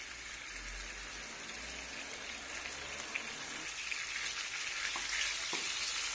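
Vegetables seasoned with salt and garlic powder fry in a pan for a quiche, giving a steady close hiss and crackle with a few small pops. The sizzle carries on without a break and no one speaks.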